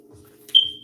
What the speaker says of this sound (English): sorry about the smoke detectors